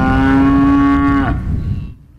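A single loud, close moo from cattle on a Greene County farm, one long held bellow that breaks off and trails away into quiet.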